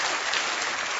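A burst of audience applause from a television show, dense, continuous clapping heard briefly at a moderate level.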